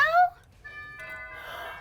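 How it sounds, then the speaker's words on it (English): A short electronic chime plays a few sustained tones, following a brief burst of voice at the start. "Is this the doorbell?"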